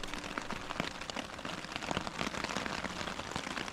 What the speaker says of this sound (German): Es ist komplett am Regnen.